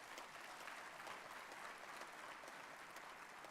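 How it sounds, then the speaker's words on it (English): Steady applause from an audience filling a hall at a valedictory function, a dense, even wash of clapping that holds at moderate level from start to finish with no voices standing out. "I think let's clap for the institution also."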